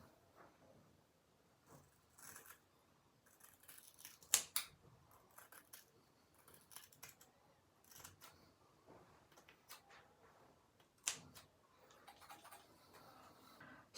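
Scissors snip through hair in a quiet indoor home haircut, the blades trimming the ends with a string of faint, irregular clicks and crisp snips, a few louder cuts standing out, with no talking.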